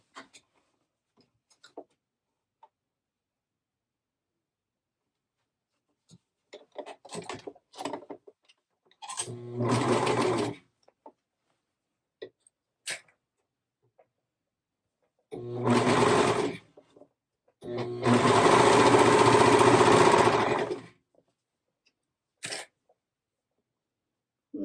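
Short bursts of a serger sewing machine stitching a sweatshirt waistband, three main runs of rapid mechanical whirring separated by quiet pauses and small clicks of handling.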